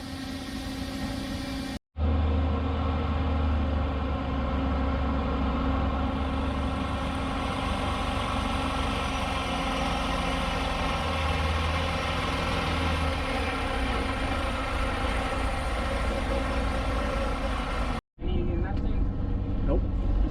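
A truck engine idles at a CDL training yard, a steady low rumbling drone running continuously and fairly loud, briefly cut off twice, with people talking over it.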